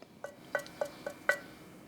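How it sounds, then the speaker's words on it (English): A terracotta ding, an ancient Shang ceremonial vessel shaped like its bronze counterparts, is tapped five times, giving short, dull clinking rings that fade quickly, faint and isolated against quiet background. "That's the sound of terracotta."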